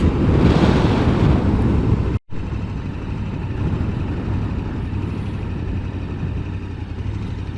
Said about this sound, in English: It's windy in Wyoming.